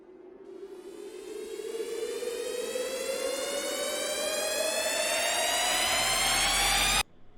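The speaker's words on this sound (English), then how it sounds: "And basically the moment the brass comes in, also a riser starts." An electronic riser effect in a remix build sweeps steadily upward in pitch, growing louder and brighter for about seven seconds before cutting off abruptly, alone and up front.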